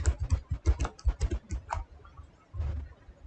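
Quick bursts of keystrokes on a computer keyboard, clattering fast for under two seconds, pausing, then a short final flurry, close and fairly quiet with no voices.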